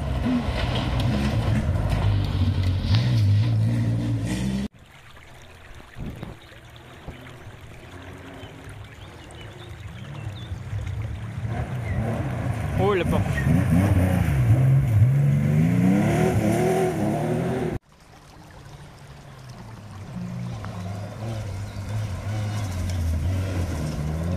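A Porsche rally car speeds along a gravel special stage of a French rally in Occitanie. Its engine rises and falls as it revs and accelerates, and wind and gravel noise run through the whole passage.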